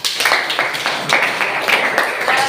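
A classroom audience gives a short round of applause for a student named Riza, with rhythmic claps in quick, evenly spaced bursts, close and fairly loud.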